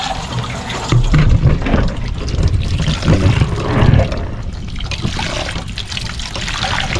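Water runs and splashes steadily for a final rinse while washing dishes, a continuous close trickle and pour with brief louder gushes, no talk.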